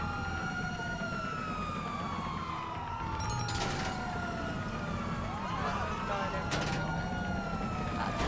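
Police car sirens in the GTA V video game wail and sweep up and down repeatedly, with several overlapping tones and brief bursts of noise, over a continuous background.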